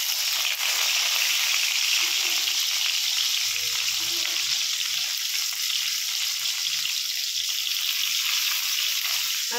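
Onions frying in a pan after tempering spices go in, a constant bright hissing sizzle that stays even and close from start to finish, with faint low kitchen knocks beneath and no speech.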